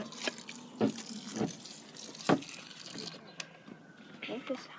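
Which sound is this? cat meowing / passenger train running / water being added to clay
water being added to clay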